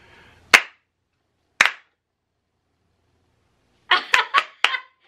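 Sharp single hand claps aimed at triggering a sound-activated Clapper light switch: one clap, a second after a long gap, then a quick burst of four claps, each crisp and close in an otherwise silent room.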